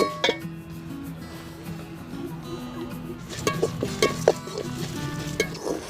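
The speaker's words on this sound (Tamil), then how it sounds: "கடைசியாக நம்ம தேங்காய் பூவையும் போட்டு வறுத்துக்கலாம்." Grated coconut stir-frying in a pan for a masala fish curry, a steady soft sizzle with scraping spoon strokes and light metallic clinks growing busier toward the end, no talking.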